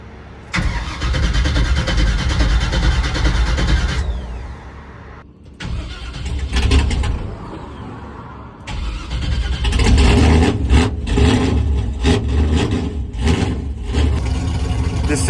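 The engine of a 43-year-old Chevrolet C10 pickup cranks and catches, then rises into loud rough revving, drops briefly, and settles into a strong, uneven run close by.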